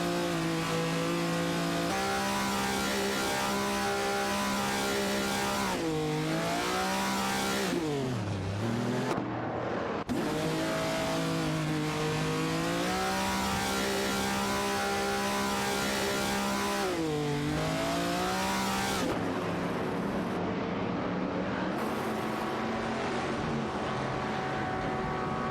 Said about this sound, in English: A tight tussle is happening for the 22nd spot between Samu Sarrar and Amy in a Chevrolet Corvette C3 Zrone and Zlatanovic's 999 in an Aston Martin Vantage 77.